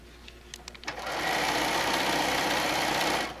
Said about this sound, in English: We're going to then sew this little bit of straight.